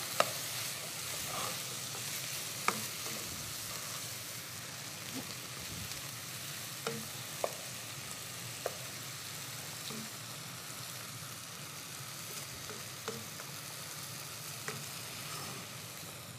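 Chicken risotto with lemon zest and parsley simmers quietly in a pan while being stirred, giving a faint, constant bubbling hiss broken by occasional soft clicks of the spoon against the pan.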